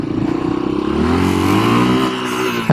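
A 1986 Yamaha XT 350 motorcycle engine revs up close, its pitch climbing smoothly and holding high as the rear tire spins, then ending with a short clunk.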